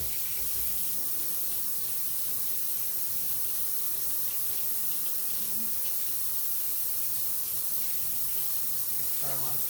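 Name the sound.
washing hands under running tap water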